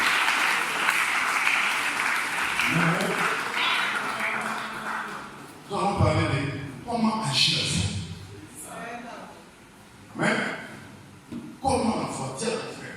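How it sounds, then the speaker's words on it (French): In a church in Daloa, a congregation claps and cheers for the Lord in several loud bursts, with voices calling out over and between the applause. "Pour donner l'acclamation au Seigneur"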